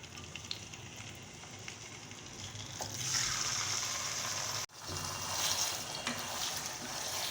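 Chicken pieces fry in hot oil in a karahi, giving a steady, soft sizzle that swells and brightens partway through, with a brief cut in the middle.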